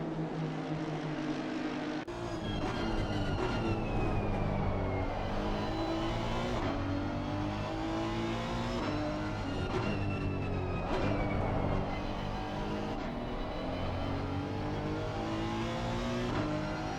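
Honda NSX Evo race car in a racing video game at Zandvoort, its engine roaring continuously and loud through rising and falling revs and gear changes, with other cars audible alongside.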